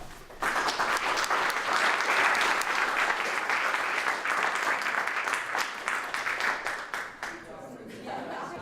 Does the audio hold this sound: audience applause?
yes